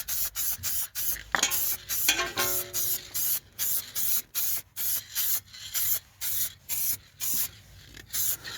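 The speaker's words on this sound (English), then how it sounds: "I love the way this spray pattern works. It's really accurate." Repeated short bursts of silver aerosol spray paint on a Rover 45 car, a steady rhythm of hissing puffs about twice a second, close by with no talking.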